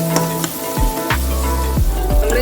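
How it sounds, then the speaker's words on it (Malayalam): Green chillies sizzle in hot oil in a pan for a fish curry, a steady crackling fry broken by a few scraping strokes of a spoon stirring them, close and without talk. "ഇതിൻ്റെ പച്ചമുളക് ജസ്റ്റ് ഒന്ന് മാറുന്നവരെ നമുക്കിതൊന്ന് ഇളക്കി കൊടുക്കാം കേട്ടോ."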